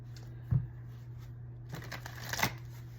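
Akashic Tarot cards being shuffled: a few soft, brief riffling bursts spaced across a quiet room, close and fairly faint, with no talking.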